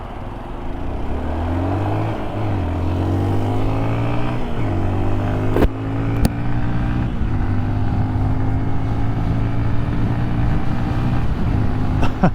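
A 2025 Honda XR150L dual sport motorcycle cruising at about 50, its steady single-cylinder engine drone loud and close with a brief dip and recovery in pitch, plus a few sharp clicks.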